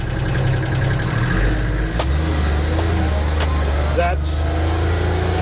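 A Kioti K9 cab tractor engine runs in low range with a steady, heavy low rumble throughout. A brief spoken word sits over it.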